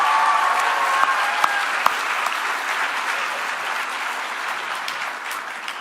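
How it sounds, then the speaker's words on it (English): Sustained applause from a large crowd, a dense steady clapping that fills the whole stretch and fades only slightly toward the end. "And how about a round of applause for Allison, Kristen, everyone at Students f"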